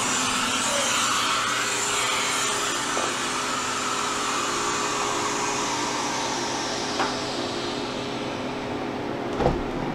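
Air rushes steadily from an opened freeze dryer drain valve, a loud continuous hiss that slowly fades over about ten seconds, with a couple of faint clicks.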